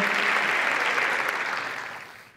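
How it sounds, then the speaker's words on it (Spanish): Audience applause at a gastronomy conference talk in San Sebastián, a steady dense clapping from a full room that fades out toward the end. "Un aplauso, no seáis fríos."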